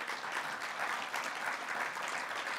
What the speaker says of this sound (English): So please recognize yourself with a round of applause.